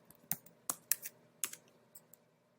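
Quiet, close typing on a computer keyboard: a short burst of sharp individual key clicks with uneven spacing, heard alone.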